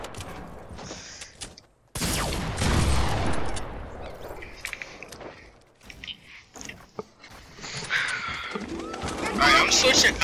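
Gunfire in the video game Fortnite, with bursts of shots and gameplay noise running loudly throughout, mixed with a person talking over it.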